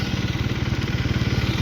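KTM Duke 250 single-cylinder motorcycle idling on a cold start, a steady, close, rhythmic low chugging with a fast regular pulse and no talk over it.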